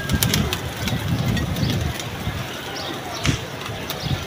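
A wary, hungry pigeon perched up high coos in low, throaty pulses, several soft calls close by over a rustling outdoor background.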